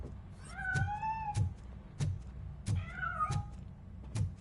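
A cat in the RoboCop: Rogue City video game gives two rising, drawn-out meows close by. Soft knocking thumps fall in a loose rhythm around the calls.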